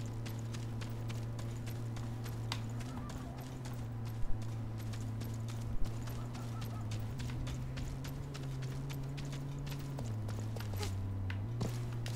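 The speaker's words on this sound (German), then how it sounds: "Ich höre ein Pferd." Steady, regular hoofbeats from the video game Realm Royale clip-clop along at a walking pace over a low, droning musical backdrop, with a couple of sharper knocks.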